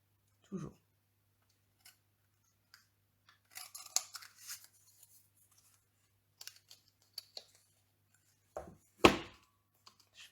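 A paper border punch is run along a strip of paper for card-making, giving sparse, close, crisp clicks and short scratchy crunches in quiet surroundings, with one louder snapping burst near the end.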